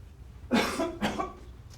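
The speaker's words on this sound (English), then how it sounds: "Sorry, I didn't want to cough in the microphones." Two quick, muffled coughs in close succession at a police media briefing, fairly soft and close to the microphone, against a quiet background with no talking.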